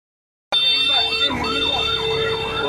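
A loud wailing fire engine siren cuts in abruptly and keeps rising and falling close by at a ship fire in an old harbor in South Nias, Indonesia, with a constant mechanical hum underneath.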